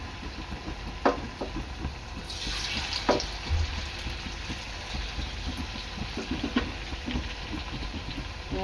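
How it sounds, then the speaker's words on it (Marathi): Batata vada for a fasting-day recipe fry in hot oil over a low flame, making a continuous bubbling sizzle with scattered crackles and pops throughout. "आपले वडे आहेत ना चांगले तळून घ्यायचे आहेत"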